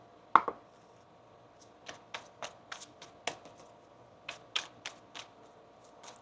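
Tarot cards are shuffled and tapped in a quiet room, a series of short, crisp riffles and snaps spaced irregularly.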